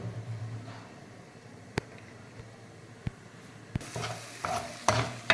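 Tomato chutney cooks in a pan on the stove, giving a steady low sizzle with a few sharp spoon scrapes as it is stirred; the stirring grows busier toward the end, with no talking.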